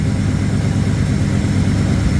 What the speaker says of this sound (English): I don't see any leaks, but you can hear the engine.